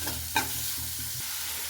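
Chopped onions frying in oil in a pan for dosa, a soft continuous sizzle with several scraping stirs of a spatula close by, no talking.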